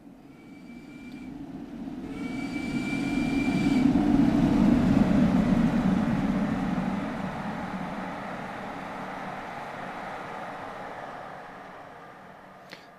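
An express train passes in Train Sim World 2, a broad rumbling roar that swells to a peak midway and slowly fades, with a brief whistle-like tone near the start.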